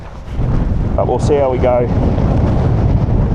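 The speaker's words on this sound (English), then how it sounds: "It's windy as." Strong wind buffets the microphone with a heavy low roar throughout, amid sleet and rain in Tasmania, while a person speaks briefly in the middle.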